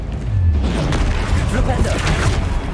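A Stupefy spell cast in the video game Hogwarts Legacy, a loud dense boom-like blast amid constant combat rumble, close and sustained over the short stretch.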